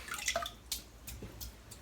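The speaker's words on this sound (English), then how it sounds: "So let's get the brush dipped" A shaving brush dipped into water before lathering soap, giving a few soft close drips and splashes with quiet gaps between them.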